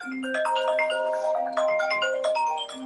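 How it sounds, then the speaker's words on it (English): A phone rings with an incoming call, its melodic ringtone playing steadily and fairly close for about three seconds, with no talk over it. "Or a phone call."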